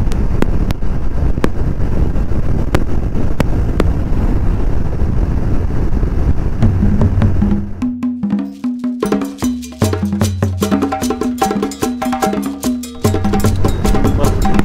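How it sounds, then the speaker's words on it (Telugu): Strong gusting wind buffets the microphone of a moving vehicle on a road trip, a loud continuous roar that briefly drops away, then returns alongside rhythmic mechanical rattling and clicks. "చాలా గాలి ఉంది ఈరోజు"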